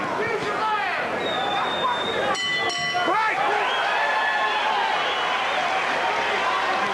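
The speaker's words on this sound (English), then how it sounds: "Heading for the bell, round 3." A boxing bell rings at the end of round 3 of a heavyweight bout between Evander Holyfield and James Tillis, giving a short burst of rings amid loud arena crowd noise and commentary.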